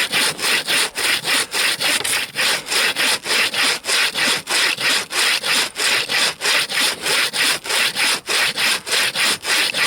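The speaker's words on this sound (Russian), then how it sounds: "Одно удовольствие пилить." A saw cuts through wood in the frozen taiga at minus fifty, its teeth rasping in a fast, even back-and-forth rhythm of about two strokes per second, loud and close with no voices.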